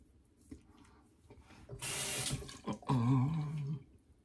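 Cold water runs from a tap into a sink during a shave, a brief rushing burst of about a second after some quiet clatter, followed by a short tonal gurgle.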